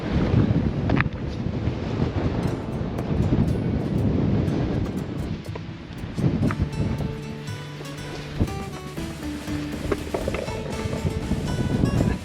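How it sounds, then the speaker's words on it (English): Strong wind buffets the microphone continuously on a rocky Scottish hillside, a loud roaring rush with gusts, and surf washing in the background. "Right, so it's super windy."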